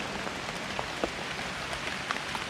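Steady rain patters on banana leaves outdoors during a mushroom hunt, a dense even hiss scattered with sharper individual drop taps, close and continuous with no voices.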